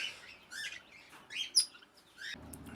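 A red-rumped parrot gives a string of short, bright chirps and tweets in quick bursts, fairly close and otherwise quiet, with a low rumble entering near the end.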